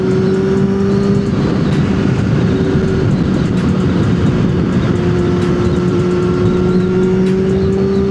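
A Yamaha R6 sport motorcycle out on the road, its engine a steady droning hum blended with constant rushing wind, loud and unbroken throughout, with no pauses or gear changes standing out.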